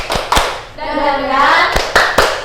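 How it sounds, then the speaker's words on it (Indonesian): Classroom pupils perform a rhythmic clapping chant, with sharp hand claps at the start and end framing a stretch of sung, chanted children's voices in between. "Tepuk semangat."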